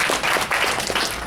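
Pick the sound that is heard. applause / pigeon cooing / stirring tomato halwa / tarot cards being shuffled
applause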